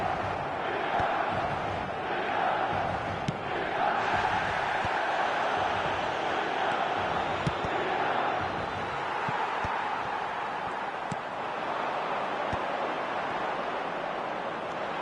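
A large match-day stadium crowd roars and cheers steadily for the whole stretch, a dense, distant wash of voices under faint commentary.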